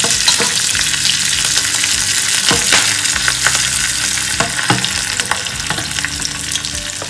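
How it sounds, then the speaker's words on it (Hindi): Cumin seeds, curry leaves, green chillies and whole dried red chillies sizzle and crackle loudly in hot oil for kadhi, a dense continuous frying hiss with scattered pops and stirring scrapes, up close and without talk. "इसमें हम जीरा डालेंगे, करी पत्ता, हरी मिर्ची और साबुत लाल मिर्ची है वो भी हम डाल देंगे।"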